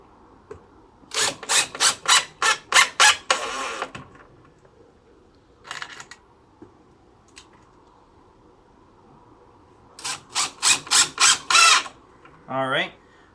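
A hand tool drives screws into a wooden box, giving bursts of rapid, evenly spaced ratcheting clicks, close and loud, with pauses between screws and a brief voice near the end.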